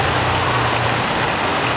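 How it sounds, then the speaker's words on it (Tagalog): Heavy rain pours steadily in a dense, loud hiss, as if drumming on a delivery vehicle during a drive, continuous throughout with no voices. "kasi talagang malakas talaga ang ulan"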